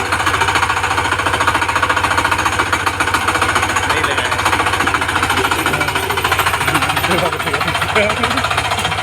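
An engine-driven nursery machine runs during a field demonstration, its motor pounding in a rapid, steady knocking rhythm that stays loud and close throughout, with someone talking over it.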